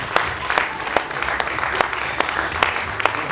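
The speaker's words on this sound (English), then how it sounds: "a round of applause for these wonderful ladies once again" Steady audience applause at an anniversary celebration in a hotel conservatory fills the space with dense, continuous clapping from a sizeable crowd, with sharper individual claps popping out over the wash and no voices on top.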